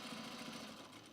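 Sewing machine stitching men's pants, a close, fast, even mechanical whirr with rapid repeating stitch knocks, running alone for a brief moment.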